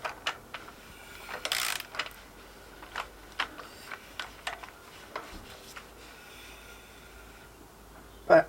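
A 14mm socket ratchet turns a Yamaha XJR1200 engine anti-clockwise during valve clearance work, giving a run of crisp, irregular ratcheting clicks at close range, with one louder clack near the end.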